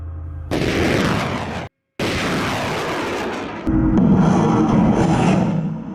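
M270 MLRS rocket launcher firing: loud roaring blasts broken by a short gap, then a deeper sustained rumble, no talking.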